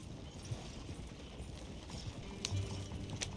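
Horse hooves clip-clop at a steady walking pace in Red Dead Redemption 2, soft and fairly close over quiet ambient game sound.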